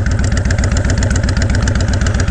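A Honda Fury motorcycle with a Cobra-style exhaust idles close by, throbbing in a loud, even, rapid pulse that stays steady throughout with no talk over it.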